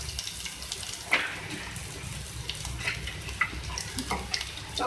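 Chopped spring onion and green chilli fry in a pan, giving a soft, continuous sizzle punctuated by scattered clicks and scrapes of stirring, fairly quiet throughout.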